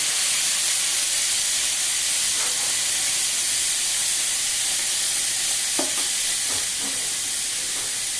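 Chopped ash gourd pieces cooking in hot oil for a thoran, giving a loud, continuous hiss and sizzle up close with occasional stirring knocks and scrapes, and no voices.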